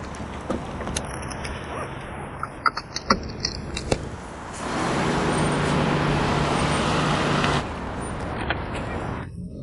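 A car driven along a road with a steady rushing engine and tyre noise that swells for a few seconds and then drops back, along with a few sharp clicks and rattles inside the vehicle.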